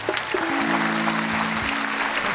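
Applause from the audience at a live concert of Uzbek songs, a dense, loud, continuous patter of many hands, with a sustained low musical tone running beneath it.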